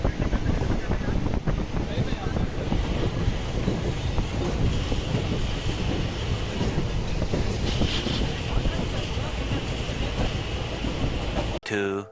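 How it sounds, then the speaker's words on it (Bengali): A passenger train pulls into Chhatna station in the evening, a loud, continuous rumble of rail cars with wind buffeting the microphone, steady throughout before cutting off near the end. "ঠিক সাতটার সময় ট্রেনটা ছাতনা স্টেশনে চলে এলো"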